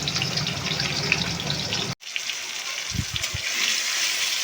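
Hot water gushes into a cooking pan of spiced potato, eggplant and tomato curry for a pabda fish stew, a steady pour that cuts off abruptly, followed by a few soft clunks and a quieter wash of sound.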